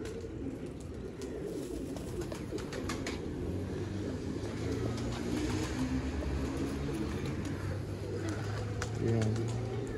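Pigeons coo softly and repeatedly over a steady background hum, with faint voices now and then, at a pigeon keeper's loft in Haripur, Hazara, Pakistan.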